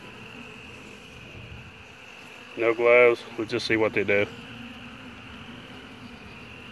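Honey bees from a small opened colony hum in a steady, close drone, a continuous buzzing bed that runs throughout while someone speaks briefly over it in the middle.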